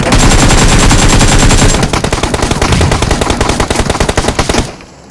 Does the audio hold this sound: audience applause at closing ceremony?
no